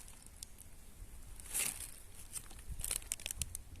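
Cellophane packaging around mail-order rose seedlings crinkles and crackles in short, close bursts of handling, with quieter rustling gaps between them.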